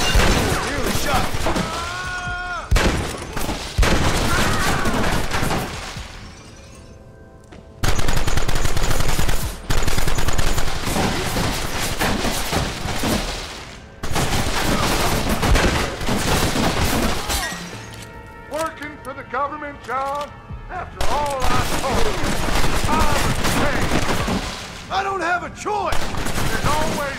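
Gunfire in Red Dead Redemption: loud, dense bursts of rapid shots and shattering impacts, broken by brief pauses, with voices talking intermittently between and under the shooting.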